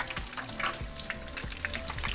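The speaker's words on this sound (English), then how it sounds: "and just continue frying" Fish fries in hot oil for tacos, a soft, steady sizzle and crackle with faint stirring sounds, heard close and alone.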